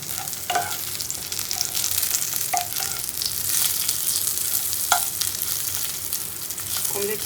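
Omelette frying in a pan, a steady sizzle throughout with occasional sharp clinks of a utensil stirring or scraping, close and fairly loud, with no talk.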